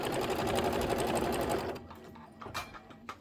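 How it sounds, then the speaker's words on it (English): An embroidery sewing machine stitches a tack down trim line on fabric with a fast, steady, close whirring hum for nearly two seconds, then stops, leaving quiet handling noises. "Machine is going to do a tack down trim line."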